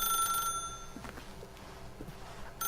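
A telephone rings in the video game The Stanley Parable: a bright electronic trill at moderate loudness that cuts off early, followed by quiet, hollow in-game room ambience with faint footsteps.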